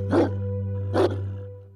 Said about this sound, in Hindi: कुत्ते के, जो हमारी अजीब हरकतों पर परेशान होकर मुतवातिर भौंकता रहा।